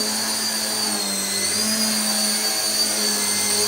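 A JJR beginner RC helicopter flying indoors, its small motor and rotor giving a steady, loud whining buzz that holds constant with slight pitch wavering throughout.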